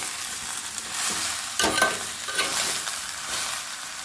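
Bottle gourd and chilies frying in a pan, a continuous moderate sizzle with stirring and scraping strokes, louder bursts midway as the vegetables are turned.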